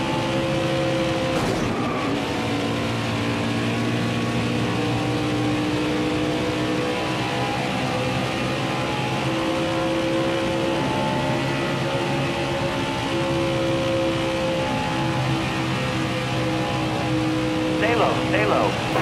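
NASCAR race cars circle the Atlanta track in the NASCAR Heat 5 video game, a continuous droning engine note with shifting pitch as cars pass, while a spotter's voice talks over it throughout.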